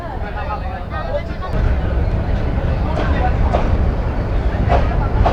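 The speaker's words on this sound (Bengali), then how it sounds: "আবার ট্রেন ছেড়েও দিল।" The Sagorika Express pulls away from a small station with a broad rumbling, rattling roar that grows louder after a moment and holds steady, with scattered clanks and people talking nearby.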